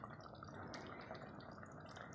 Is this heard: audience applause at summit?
no